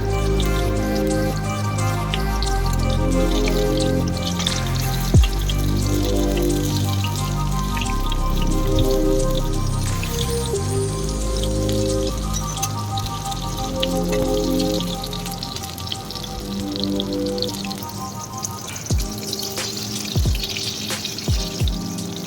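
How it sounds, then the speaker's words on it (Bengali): Batter-coated ridge gourd fritters frying in oil crackle and spit steadily, with occasional louder pops and clatters near the end as the pieces are turned, all beneath continuous background music. "একটা একটা করে আমি উল্টে দিচ্ছি"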